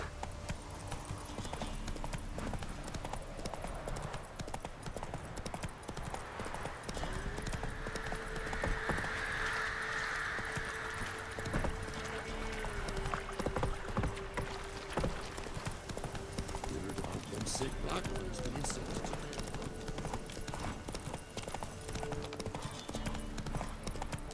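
Roach, a horse in the video game Witcher 3 running with the next-gen ray tracing update, gallops with continuous, even hoofbeats that go on for a long stretch, layered with ambient game music, a brief whinny and other in-game sounds.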